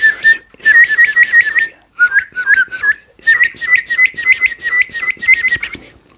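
A rapid warbling whistle made with the palate whistle lip-warble technique, in quick bursts of fast trilled notes, loud and close, with short pauses between phrases.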